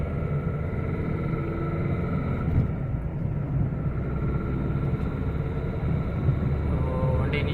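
A Ford Figo diesel car with a newly replaced clutch set drives steadily, its engine and road rumble a continuous close drone from inside the cabin, with no speech.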